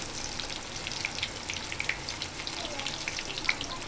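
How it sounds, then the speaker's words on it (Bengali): Chopped onions frying in oil with whole garam masala and leaves for a fish roe dish, giving a faint, steady crackle with scattered sharper pops and no talking. "কেটে রাখা পেঁয়াজটা আমি লাল লাল করে ভেজে নেব"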